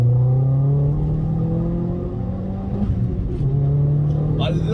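A high-mileage, neglected Vauxhall Astra VXR Nurburg pulls hard along a highway stretch, its engine note a loud, steady drone that climbs in pitch under acceleration, with a brief lift and resurgence near the end and no talking.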